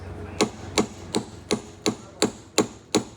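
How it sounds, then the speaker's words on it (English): Hammer striking a bolt on a 1962 Ford Thunderbird's leaf spring shackle, eight sharp metallic blows at an even pace about every third of a second, close up and clear with no talking. "Just hit just the bolt. Don't hit the shackle itself."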